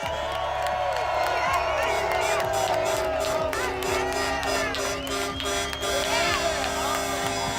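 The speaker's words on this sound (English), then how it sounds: "round of applause for Senator Ted Cruz for joining us" A crowd at a truckers' gathering in Hagerstown cheers and applauds for Senator Ted Cruz, with whoops, shouts and horn-like tones over a steady roar, and a voice speaking through the noise.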